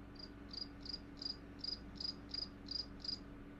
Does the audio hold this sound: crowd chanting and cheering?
no